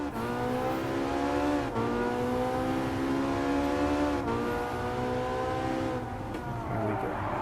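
A Gran Turismo race car engine howls at high revs, holding a strained, buzzing tone that dips briefly at each of several gear shifts before climbing again, loud and constant with no talk.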